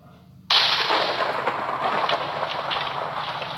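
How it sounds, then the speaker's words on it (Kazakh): Fireworks set off in the Minecraft video game, an abrupt burst of crackling, booming explosions that continues as a dense rumbling barrage, loud and without talk. "Биз салют ата берик."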